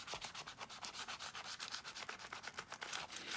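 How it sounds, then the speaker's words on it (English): Gold foil being burnished down by hand onto glue on a Bible journaling page, heard as faint, close, rhythmic rubbing strokes, about a dozen quick scratchy swipes in a steady back-and-forth pattern with no talk. "I'm gonna, again, just kind of burnish it down."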